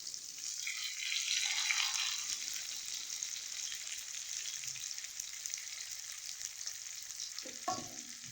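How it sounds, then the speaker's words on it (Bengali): Onions and chopped tomatoes fry in hot oil with dry red chillies and cumin for a fish-head and cabbage curry, giving a steady, close, bright sizzle that surges early, then holds, with a brief spatula scrape near the end. "এগুলোকে আমি একটু ভাজা ভাজা করবো। পেঁয়াজগুলো যখন ব্রাউন হয়ে যাবে তখন পর্যন্ত এগুলোকে আমি ভাজবো।"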